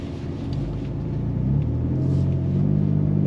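A 2025 Ford Ranger Raptor V6 pickup's engine and exhaust rumble steadily from inside the cabin, a loud, deep drone that rises slightly as the truck drives in sport mode.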